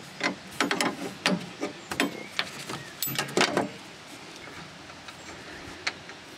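Bolt being undone on an Efco mower deck, giving a string of close, sharp metallic clicks and ratcheting ticks that come in short bursts and thin out toward the end.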